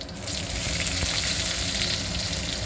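Onions frying in a pan of oil along with coriander seeds, giving a steady, close, dense sizzle with no talking.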